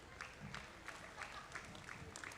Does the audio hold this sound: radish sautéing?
no